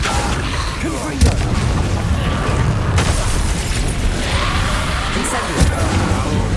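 A Confringo fire-blast spell bursts in Hogwarts Legacy, loud booming impacts and crackling blasts within a dense, continuous spell-combat din.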